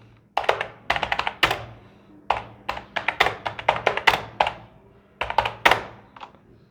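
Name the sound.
typing on Redgear Blaze backlit wired gaming keyboard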